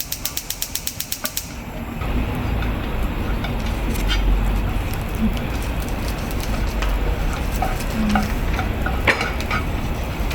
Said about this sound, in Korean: 서기 볶을 때는 식용유 쓰지 마시고 참기름만 넣고 소금으로만 간해가지고 이렇게 볶아주시면 돼요.